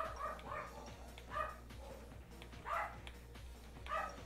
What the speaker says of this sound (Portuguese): A fera tá latindo.